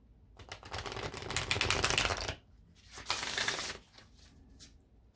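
Tarot cards are shuffled close up in two riffled bursts, a long one and then a shorter one, crisp rapid flutters with quiet between.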